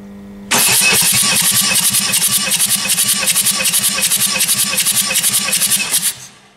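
A 2.0-litre turbodiesel engine in a 2009 Ford Mondeo cranks loudly during a compression test: a sharp start, then a fast, even chugging of the starter for about six seconds before stopping abruptly.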